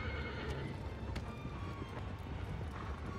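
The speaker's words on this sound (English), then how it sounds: "So I'm on my horse." A horse neighs and its hooves clip-clop at a gallop in the video game Shadow of the Colossus, rhythmic hoofbeats with a whinny over continuous game ambience.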